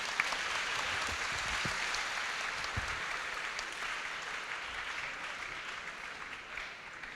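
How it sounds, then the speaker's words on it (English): Audience applauding to welcome tennis players Sania Mirza and Rohan Bopanna at a school leadership lecture, a dense, steady wash of clapping from a sizable crowd that fills the whole stretch and tapers slightly near the end. "Let's welcome them with a huge round of applause."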